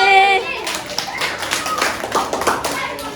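Students clap for a teacher at a farewell on the last day of teaching practice. A brief sung or voiced tone comes first, then a lively, uneven round of clapping mixed with children's chatter.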